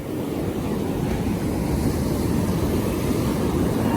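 Sea waves wash onto the sand at Mypadu beach as a continuous, loud, close rushing roar mixed with wind buffeting the microphone. No voices are heard.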